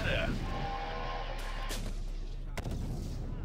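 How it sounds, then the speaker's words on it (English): Rocket-propelled grenade fire in the PC war strategy game Syrian Warfare: a few sharp blasts and bangs over a steady rumble of battle, with some voice-like sound mixed in. "Watch where you're shooting those RPGs!"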